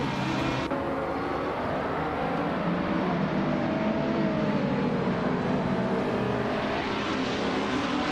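Several race cars in a racing video game, including a 2011 McLaren MP4-12C GT3, roar off the starting grid, engines blending into a loud, sustained rising drone with no gaps.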